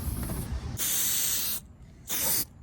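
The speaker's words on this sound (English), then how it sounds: "This rubberized spray is good stuff" Plasti Dip rubberized spray hisses from an aerosol can onto metal chairs in two bursts, a long one and then a shorter one, loud and close, with a steady background hum between them.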